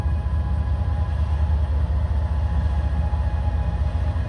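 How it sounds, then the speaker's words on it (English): Heavy, continuous low rumble of a Canadian National train engine rolling over an old wooden trestle, close and steady throughout with rhythmic wheel clatter. "a Canadian National engine there."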